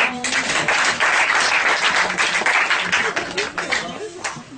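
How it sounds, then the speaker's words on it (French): An audience at an improv comedy show about bullfighting breaks into dense, sustained applause, loud and continuous, with voices mixed in over the clapping. "On l'applaudit quand même"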